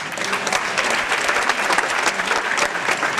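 A large political rally audience claps in a dense, loud, sustained burst of applause with no pauses.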